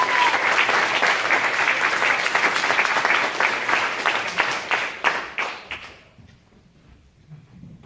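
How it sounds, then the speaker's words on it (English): A rally crowd claps loudly for the candidates in a dense burst that thins into scattered claps and then fades to near silence after about six seconds. "Let's give all the candidates a round of applause."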